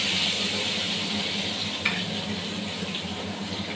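Nigella seeds and split green chilies sizzle in hot oil in a pan, a steady bright hiss close by with one brief crackle partway through, and no one speaking.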